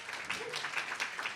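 Audience at a business school leadership talk breaking into applause, a brief burst of clapping from a hall crowd with a voice briefly audible underneath.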